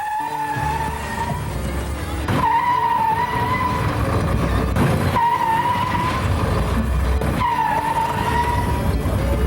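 A car skids with a long, loud tire squeal that rises and falls in several surges over roaring engine noise, close by and with no voices.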